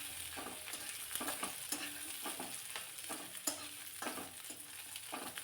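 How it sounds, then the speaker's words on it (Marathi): Green peas are sautéed in a pan, a low, steady sizzle broken by a regular rhythm of spoon scrapes and stirring strokes. "ओले वाटाणे थोडेसे घातले आणि पुन्हा हे चांगलं परतून घ्यायचे"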